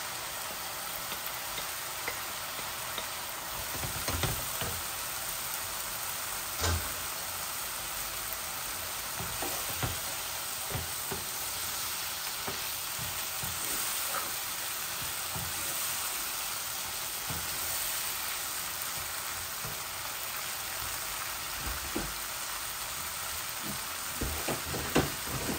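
Potatoes and broken duck eggs fry together in a pan with a steady, close crackling sizzle and scattered sharp pops and ticks throughout, with no talking.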